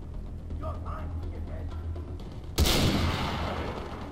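A sniper rifle shot in Far Cry 3 cracks once, loud and close, partway through, then a broad noisy tail that slowly fades, after quiet game ambience with soft murmuring.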